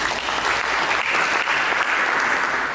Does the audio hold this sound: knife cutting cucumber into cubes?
no